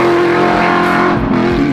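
A loud, close Shelby GT350 sports car engine revs hard with a rich, buzzy roar that rises and dips briefly.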